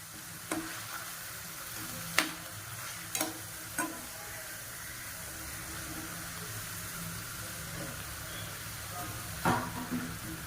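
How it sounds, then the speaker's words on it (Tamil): Onions sautéing in a pan with ginger-garlic paste for coconut rice: a faint, steady sizzle, broken by a few sharp utensil clicks against the pan, with no talking. "இப்போ வெங்காயம் நல்லா வதங்கணும்."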